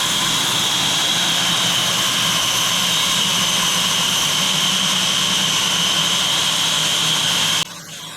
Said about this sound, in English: We're cutting a side plate